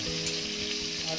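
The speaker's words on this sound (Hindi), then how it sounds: "ये मक्खन गर्म हो गया है, अब इसमें लहसुन डालेंगे" Chopped garlic sizzles in hot melted butter in a pan for a gravy, a steady close frying hiss that runs without a break.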